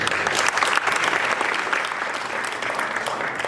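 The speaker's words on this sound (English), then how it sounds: "a big applause." Audience applause at an Africa Day event at Parliament, a dense, steady burst of many hands clapping together for a few seconds.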